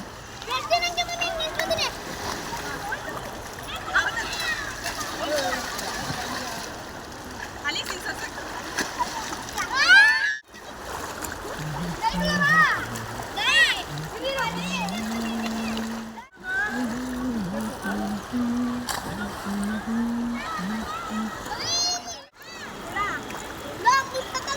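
Water splashes in a river amid lively chatter from children and adults, with intermittent sloshing and spray under near-constant talk and brief moments of near-silence.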